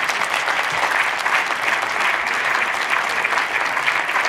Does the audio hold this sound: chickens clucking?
no